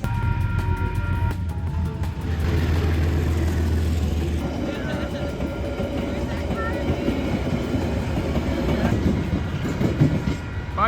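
A Coastal Pacific passenger train pulls away from a station at dusk, its low engine rumble and rolling wheel noise continuing close by with scattered clicks and squeals, while voices speak quietly nearby.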